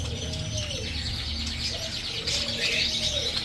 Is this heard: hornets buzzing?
no